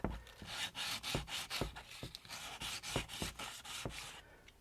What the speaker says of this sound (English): I am very carefully just going to use some light pressure and sand that down until it's smooth